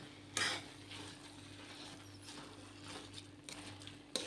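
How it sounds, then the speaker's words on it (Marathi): Cooked lentils are mashed right in a kadhai on low heat for puran, giving quiet scraping and soft knocks of a utensil against the pan, faint and close with no talk. "आता ही डाळ जी शिजली आहे ही आपण याच्यामध्येच इथेच पूर्णपणे बारीक करून घेऊया."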